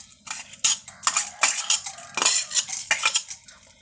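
Urad dal frying in oil for a tempering, stirred with a metal spoon in a pan: repeated close scraping and clinking strokes in an uneven rhythm, with only faint sizzle underneath.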